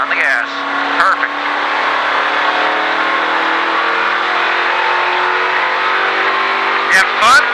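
A stock car on a racetrack during a Richard Petty Driving Experience session at Disney, its engine roaring loudly and steadily up close as it accelerates, with brief bursts of speech over it.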